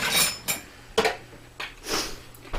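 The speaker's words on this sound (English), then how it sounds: "just got to grab my ladle" Pots and utensils clatter as a ladle is grabbed from among them in a kitchen during canning of minestrone soup, with four or five short, close, moderately loud metallic knocks and scrapes spaced apart and no talk.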